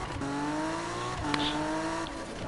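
A Toyota Supra in Need for Speed 2015 holds a steady engine drone with a few shifts in pitch, steady and fairly loud with a faint squeal partway through.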